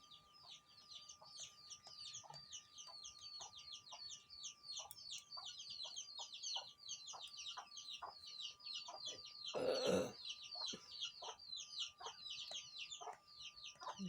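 Chickens cluck repeatedly in a steady rhythm at moderate distance alongside fine bird chirps, with one brief louder burst partway through and no talking.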